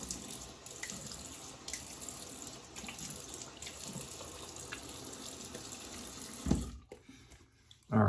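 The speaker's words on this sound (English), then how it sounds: "Nice cold water rinse." Cold water runs steadily from a tap in a continuous hiss, briefly splashing louder near the end as something is rinsed under the stream after a shave with a vintage Gillette razor.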